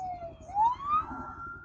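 An ambulance siren wails on a road near Eldoret, Kenya, its tone sliding upward and swelling louder mid-clip over a low rumbling traffic background, with no talking.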